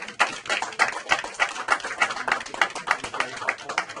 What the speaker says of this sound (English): I want to give a round of applause to Shira